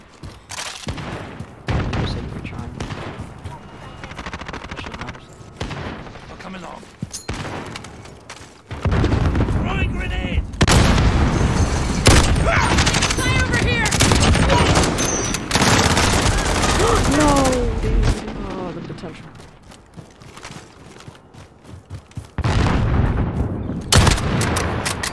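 MK2 carbine fire in Modern Warfare, heavy and loud shots and bursts mixed with explosions over a long stretch of play, with a voice shouting and talking through the action.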